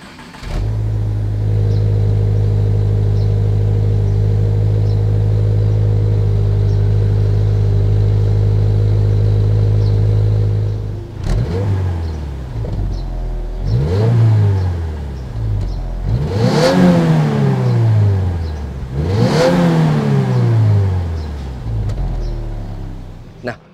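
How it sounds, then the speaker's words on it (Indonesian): Subaru Impreza WRX STI third-generation boxer engine idles steadily for about ten seconds, then revs sharply four times in rising and falling bursts, close and loud with no talking. "Jadi suara mesinnya tuh seperti ini yang sekarang."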